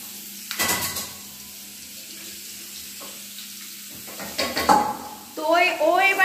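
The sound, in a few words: potatoes frying and being stirred in a pan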